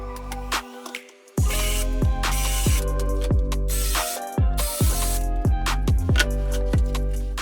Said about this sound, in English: Here I'm cutting out some notches at the corners of the melamine